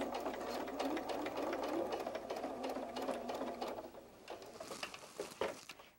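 A sewing machine runs steadily as it stitches the pinned legs onto a fabric fox softie, a continuous close mechanical whir that slows and stops near the end with a couple of sharp clicks.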